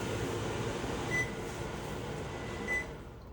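A microwave's vent fan runs as a steady broadband whoosh with a faint hum, holding even for a few seconds before tapering off, with two brief high tones over it.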